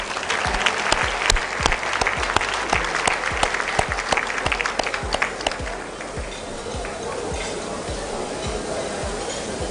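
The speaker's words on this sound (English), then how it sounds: "I would like you to join me to applaud the conference team" A large audience at a Rotary district conference in Naivasha applauds loudly and continuously, the clapping thinning to a softer, sparser patter after about five seconds.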